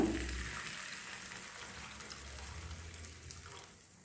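Hot water goes into a sizzling potato, pea and paneer gravy, a soft pour and hiss that settles into a quiet, even bubbling sizzle and fades toward the end.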